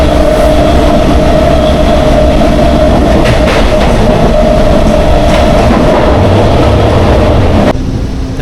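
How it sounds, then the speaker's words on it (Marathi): A passenger train pulls out of Attari station, the last stop on the Amritsar to Lahore route near the India–Pakistan border, rumbling loud and close with a steady hum and wheel clatter, dropping suddenly near the end. "ट्रेन निघली मित्रांनो."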